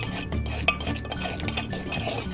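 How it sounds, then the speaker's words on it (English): Milk and cocoa being stirred into a paste in a metal cup at home, giving a steady near scraping and clinking of a spoon against the metal rim and walls, continuous and fairly loud, with no talking. "I always mix a little bit of milk in with my cocoa and make it into a paste"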